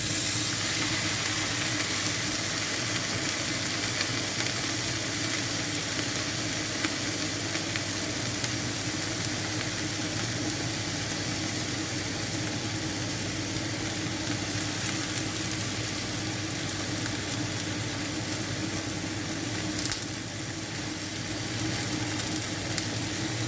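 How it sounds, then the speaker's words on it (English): Bacon and sausage fry together in a single pan for a cooked breakfast, with a loud, close, continuous sizzle and crackle that holds steady throughout and no talking. "Now I'm going to add a piece of bacon."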